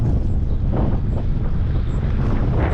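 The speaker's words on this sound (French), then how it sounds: "Et du vent, du vent, du vent." Strong wind buffets a cyclist climbing a steep road toward a Catalan summit near Girona, making a constant, loud rumbling roar of gusts across the microphone with no speech.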